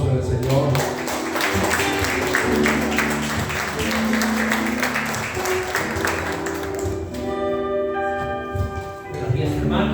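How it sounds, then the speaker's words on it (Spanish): Warm applause from a church congregation welcoming a preacher at a Sunday service, loud and sustained for most of the time before fading, with music playing underneath. "Le recibimos con un cálido aplauso en el Señor."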